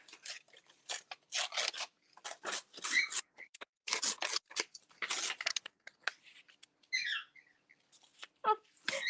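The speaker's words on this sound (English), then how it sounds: "My birds are enjoying our tearing noises," Paper is torn in a series of short ripping bursts and rustles, close and fairly quiet, with brief pauses between tears and a faint bird chirp.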